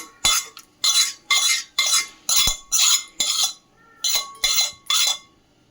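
A spoon scraping fried tempering spices out of a pan into a bowl for fenugreek-leaf chutney: about nine sharp, evenly spaced metallic scrapes, loud and close, with brief gaps between strokes.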